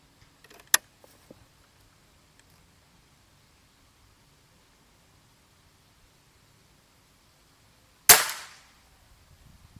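An air rifle fires at a target, two sharp cracks several seconds apart, the second louder with a brief ringing tail, against near silence.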